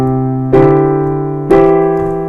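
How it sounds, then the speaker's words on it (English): Piano chords ring out in two struck attacks about a second apart, sustained and clear, a slash-chord bass line stepping upward toward the four chord. "So what we're going to do is like a walk up to the 4 chord."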